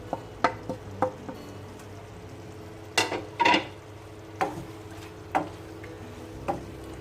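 Peas, potatoes and green chilies are stirred in a pan with scattered, sharp scraping and clinking strokes of a spoon, over a faint steady sizzle of frying at close range.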